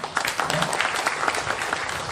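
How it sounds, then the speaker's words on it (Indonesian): Audience applause at an installation ceremony for a tourism awareness group in Batam, steady dense clapping from a crowd lasting the whole short moment with no talk over it. "Pariwisata Kota Batam, Pak Hardi, tepuk tangan."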